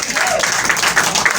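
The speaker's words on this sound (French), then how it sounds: "Applaudissez." A church congregation applauds during a prophetic service, a short burst of full, busy clapping that fills the room at moderate volume.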